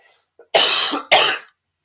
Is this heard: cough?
yes